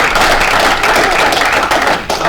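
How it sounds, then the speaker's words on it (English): A short round of applause in a city council chamber during a police badge ceremony, loud and close, with individual hand claps audible in the dense patter before it thins out near the end. "So with that, short round of applause."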